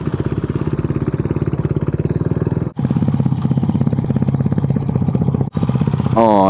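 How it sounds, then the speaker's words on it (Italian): A motorcycle engine idling close by in an open square in Sardinia, a loud, steady, rapid mechanical pulse with clattering texture, briefly cutting out twice before resuming. "c'è il rumore della moto."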